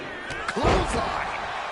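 A wrestler's clothesline lands in a PS4 wrestling video game, a single heavy slam thudding through a steady roaring arena crowd, with commentary voices mixed in.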